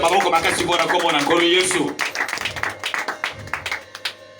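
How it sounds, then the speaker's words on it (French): A church congregation at a tabernacle service claps and applauds in a rhythmic burst of hand claps that follows a stretch of voices, the clapping moderately loud and close. "Acclamons fortement le nom du Seigneur Jésus"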